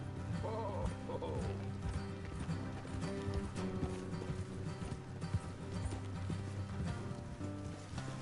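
Horses in Red Dead Redemption 2 clip-clop along at a steady pace, their hoofbeats soft and fairly distant beneath a busy wash of ambient game sound, with no speech.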